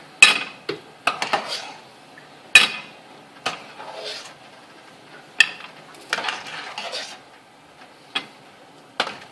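A metal spoon scrapes and clinks against a cooking pot while meatballs are lifted out, giving sharp, irregular clatters spread across the clip with quiet gaps between them, close and fairly loud, with no talking.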